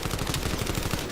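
Rapid bursts of automatic gunfire from a Call of Duty: Black Ops 7 esports match, a dense, continuous rattle of close shots running through the whole moment.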